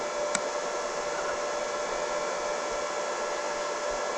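A welding machine switched on and running, a steady close electrical hum and hiss with one brief click near the start, no voices.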